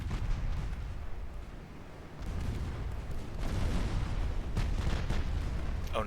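Quick-firing 6-inch naval guns boom in an Ultimate Admiral Dreadnoughts sea battle, with a few muffled reports breaking through a dense, steady roar of rumble that fills the whole stretch.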